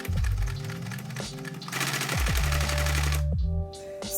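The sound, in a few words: sewing machine sewing waistcoat fabric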